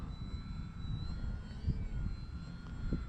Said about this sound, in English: I'm going to fly the plane right at me, and then turn.